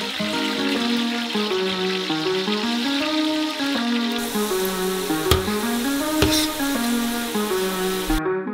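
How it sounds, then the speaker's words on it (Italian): Potatoes sizzle and crackle steadily in hot oil in a pan, fried in small batches, with music playing throughout and a couple of sharp clicks near the end. "E cominciamo a friggere le patate in piccoli lotti."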